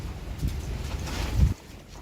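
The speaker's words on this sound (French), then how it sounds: "Mais il pleut pas, il y a juste beaucoup de vent." Steady roaring storm wind with hail buffets the microphone, with low rumbling gusts swelling and dropping throughout.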